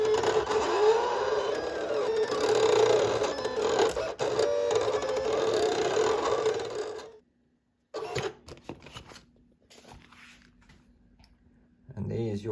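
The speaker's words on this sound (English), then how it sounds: "And then your rather noisy vinyl cutter" A noisy vinyl cutter slices a sticker design for bicycle rims, a loud mechanical whirring and clicking run for about seven seconds, then stops, with scattered faint clicks and a brief return near the end.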